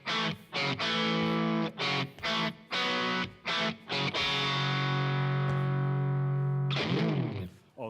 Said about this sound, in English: this result came from the distortion emulation of the amplifier and the sound response emulation of the speaker